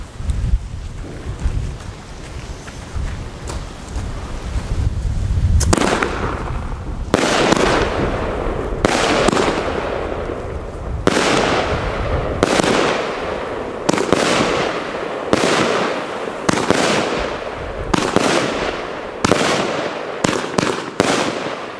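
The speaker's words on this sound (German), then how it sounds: "jetzt zum Test die Capri, auch wieder die 13 Schüsse von Argento, 30 mm" Argento Capri fireworks battery firing thirteen 30 mm shots outdoors, launching as a quick series of sharp booming bursts spaced about a second apart with rising pace toward the end, over steady wind noise on the microphone.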